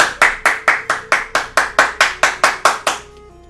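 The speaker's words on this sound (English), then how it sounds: "I have to clap for everyone that is not clapping." Twelve sharp hand claps at an even, brisk rhythm from a single person close by at a speedrun event, each clap loud and crisp, stopping abruptly with a brief quiet tail.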